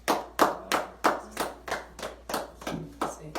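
Congregation in a church applauding the Lord in rhythm, a steady beat of about ten sharp claps at an even pace, fairly close, with no talk.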